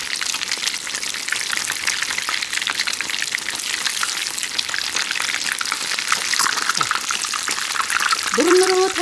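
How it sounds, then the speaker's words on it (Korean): Jeon pan-fried in plenty of oil over fairly high heat, including burdock, cod and lotus-root-shrimp fritters. A dense, continuous sizzle and crackle with a voice speaking briefly near the end. "이렇게 튀기듯이 굽는 거예요."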